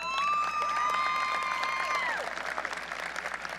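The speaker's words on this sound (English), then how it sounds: "Please give this group of students and educators a round of applause." Graduation ceremony audience at Wylie High School applauding a group of students and educators, steady dense clapping with a sustained tone running over it for about two seconds, then the applause continuing alone and thinning slightly.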